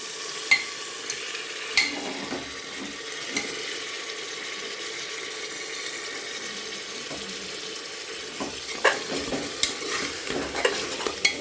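A spoon scrapes and stirs chicken with masala paste in a pressure cooker, with scattered soft clinks and a faint sizzle in the background.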